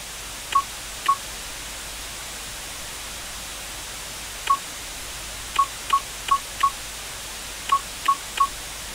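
Telephone dialing tones from the retro computer game Commander '85 beep in short, evenly pitched bursts, two early, then a quick run of four and a final cluster of three, over a steady hiss.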